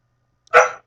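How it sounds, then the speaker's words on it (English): One brief, loud dog yelp or bark sounds nearby after a moment of near silence. "That's my dog's howling"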